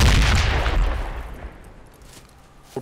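A loud burst of gunfire in the military shooter Project Reality opens the moment, then rolls off into a fading echo, with a faint crack near the end.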